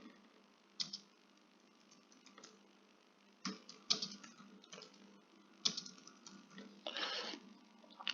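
Computer keyboard keys tapped in scattered bursts and single clicks with pauses between, close and quiet, no voices.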